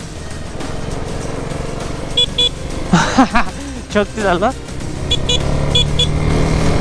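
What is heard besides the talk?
motorcycle horn sounding like scooter horn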